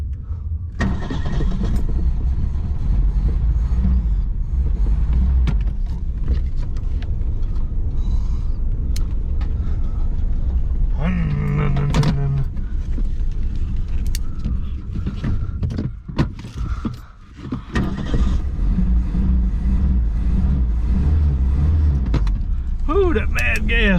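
An old 1973 Ford Pinto Squire wagon engine runs rough on stale gas, cranking, sputtering and stumbling loudly close by with creaks and mechanical clatter, dipping briefly near the end, while people talk throughout.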